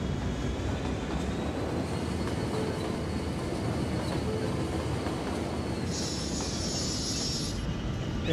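A train rolls along the tracks in the game Cities Skylines, a steady rumbling clatter with a thin high wheel squeal, and a brief higher whine joins near the end.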